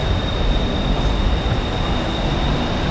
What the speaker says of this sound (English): we're going to hop on the train